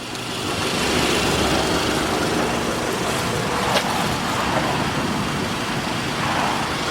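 A Scion tC with a manual transmission, raised on a lift, runs in fifth gear at idle near 25 mph: a steady engine hum with a whirring drivetrain and a single faint knock midway.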